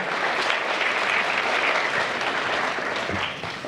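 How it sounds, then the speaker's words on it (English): Audience at a National Honor Society induction ceremony gives a sustained round of applause, a dense wash of clapping that holds steady and begins to fade toward the end. "let's give him a nice big round of applause"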